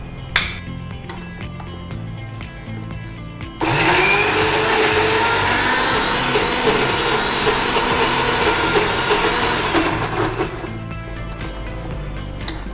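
A mixer grinder grinds gooseberry thokku with salt and chilli. The motor whirs loud and steady for about seven seconds in the middle, with quieter clatter and handling before and after.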